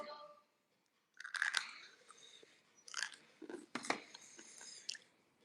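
Someone chews crunchy snacks close to the microphone, with several sharp crackling bites followed by wet, softer munching in an irregular rhythm.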